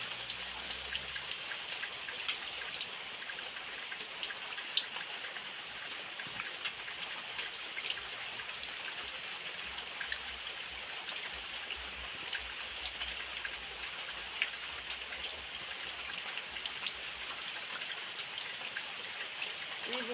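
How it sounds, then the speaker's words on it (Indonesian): Steady rain patters on surfaces beside a small ditch where someone fishes, a continuous soft hiss of drops close by with faint trickling water underneath. "Ini hujan bro, cuacanya agak mendukung ya."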